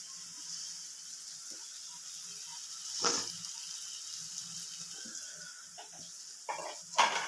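Onions fry in a pan with a faint, steady sizzle running throughout, broken by a few sharp clinks of a utensil against the pan.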